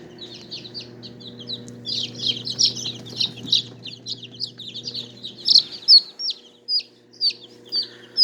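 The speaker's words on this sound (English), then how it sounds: "this little chick here is pretty typical of a Wheaton pattern chick" Wheaten pattern chicks peeping, a rapid series of high, sharp chirps from several birds close by, growing into louder, spaced single peeps over a low hum.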